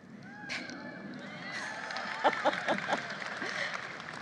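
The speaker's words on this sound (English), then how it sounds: "Mostly the parents clapping there." Scattered applause from a modest crowd, mostly parents, at a political celebration, steady clapping mixed with murmuring voices and a few louder claps standing out.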